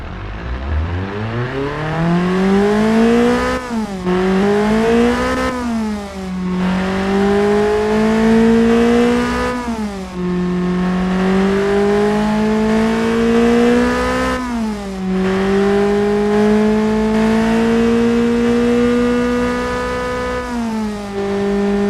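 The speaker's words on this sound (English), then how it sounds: "Engine now is sounding perfectly" A modified, tuned car engine rated at 47 horsepower revs repeatedly, each rise in pitch climbing smoothly before dropping back, about five long pulls in a row, loud and close with no talking.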